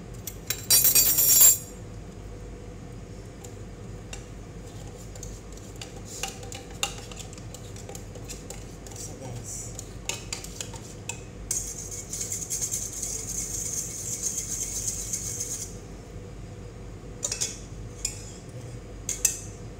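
Utensil clinking and scraping against a bowl while whipped cream and condensed milk are stirred together for a mango float, with a loud clatter at the start, then steady soft scraping and rattles, no talk.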